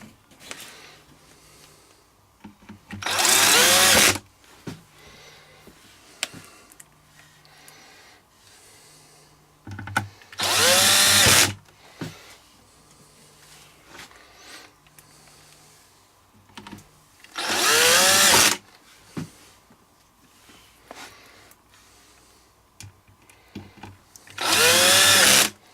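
Power driver spinning out screws while a JBL Boombox speaker is taken apart, four loud bursts of a second or two each at steady intervals, with quieter handling and clicks between them.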